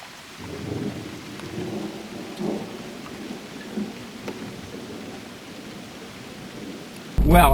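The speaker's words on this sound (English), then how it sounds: "it's developed into a pretty good rainstorm, and a couple of visible lightning flashes." A rainstorm with thunder near a lake in Texas in May: low rolling rumbles under a constant wash of rain, ending in a sudden loud, close burst.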